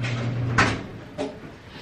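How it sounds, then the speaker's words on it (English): A clothes dryer door is pulled open at home, giving two short clacks about half a second apart over a faint background hum. "Open up the dryer door."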